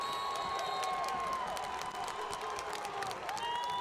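A high school football crowd at a Nixa at Carl Junction game roars and cheers steadily after a short completed pass on fourth down, a dense sustained wash of voices with scattered whoops and applause throughout.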